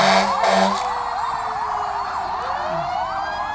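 East Brookfield Engine 3 fire truck sounding its wailing siren at a nighttime Christmas parade of lights, the siren sweeping up and down loudly and close as the engine passes, with brief horn blasts at the start.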